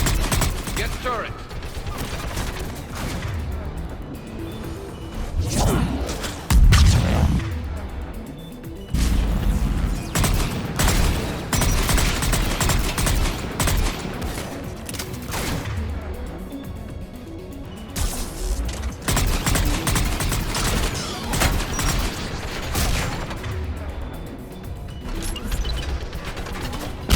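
Turret fire in the Mass Effect 3 video game, sustained loud bursts of automatic shooting with crashing impacts and mechanical clatter, dense and continuous with brief lulls over about half a minute.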